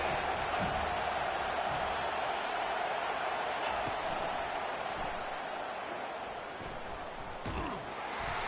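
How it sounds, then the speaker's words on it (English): Stadium crowd in the CFB 25 college football video game, a dense continuous roar that swells briefly late, steady and loud throughout. "Big 3rd down as the crowd gets behind this defense."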